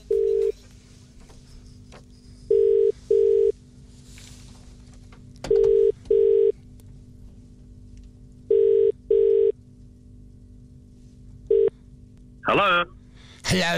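An outgoing telephone call rings on the line with a steady double-pulse ringback tone, three loud pairs spaced evenly, followed by a clatter as the call is answered.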